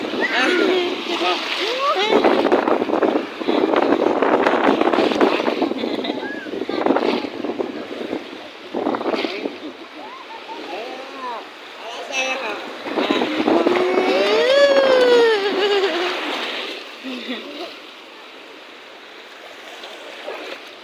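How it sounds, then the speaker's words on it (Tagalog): Strong sea waves wash and splash against a beach in a steady, loud rush, with wind buffeting the microphone and several people talking and calling out over the surf. "Lakas ng alon."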